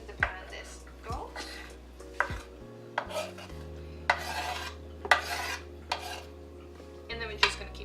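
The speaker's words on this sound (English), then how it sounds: "And then we're just gonna keep stirring that gently until we feel that it's nice and soft." Onions and spices cooking gently in a fry pan for Cape Malay pickled fish, with intermittent spoon scrapes and clinks against the pan at an unhurried pace over a faint sizzle and low hum.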